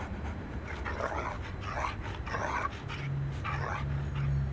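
Stray dogs in Moscow pant and whine close by, with soft whimpers in a noisy outdoor setting. A low hum runs underneath.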